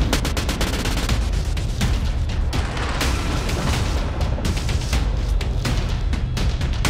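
A dense, nonstop barrage of heavy booms and cracks from a naval gun salvo in the World of Warships video game, with overlapping blasts crowding together loudly throughout.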